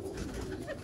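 A brief, low cooing from a breeder pigeon at a rooftop loft in Sangjani, Rawalpindi, soft and close, lasting under a second.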